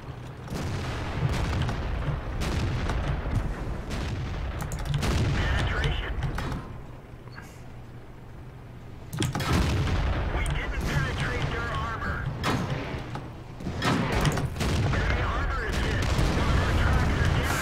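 Artillery and tank gunfire in the video game World of Tanks, with repeated loud booms and rumbling blasts at irregular intervals over constant engine noise.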